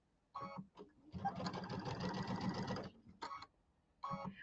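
Home sewing machine running a quarter-inch seam while piecing a quilted table topper: one steady buzzing stitch run of about two seconds, bracketed by brief whirring starts and stops, close and clear.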